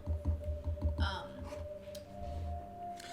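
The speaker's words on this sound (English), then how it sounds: "I'm gonna switch my keyboard so all this clicking that you guys hear is no longer really gonna be a problem" Computer keyboard keys clacking during typing, a quick rhythmic burst of loud clicks near the start, followed by quieter intermittent tapping over a steady low hum.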